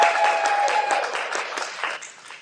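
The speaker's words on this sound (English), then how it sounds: "So let's everybody give Nick a round of applause." An audience at the 2021 American Federation of Aviculture conference breaks into steady applause, a dense wash of many hands clapping at close range that holds for a couple of seconds and then gradually thins out.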